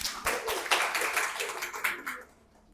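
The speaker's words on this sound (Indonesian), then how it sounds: "Oke, tepuk tangan juga untuk Farhan." A small classroom audience claps for a student named Farhan after his presentation in a university teaching session. The brief, dense burst of hand clapping lasts about two seconds and then quickly dies away.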